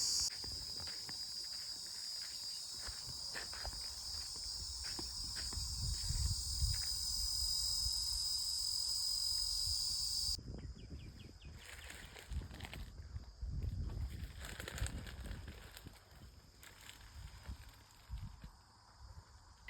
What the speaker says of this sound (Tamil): இந்த சில்வண்டு எப்படி இருக்குன்னே பார்த்ததில்லன்னு சொல்கிறவங்களுக்கு இந்த மரத்தில் ஒட்டி இருக்கு